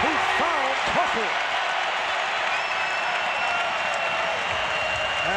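A crowd at a basketball arena cheers and applauds, a dense, sustained roar that stays loud from start to finish, with a few brief tonal calls near the beginning.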